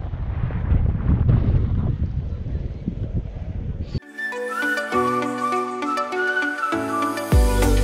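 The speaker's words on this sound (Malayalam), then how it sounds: "നല്ല കാറ്റ്." Strong wind buffets the microphone at a steep canyon edge above the Penna River in Gandikota, Andhra Pradesh, roaring for about four seconds before music takes over.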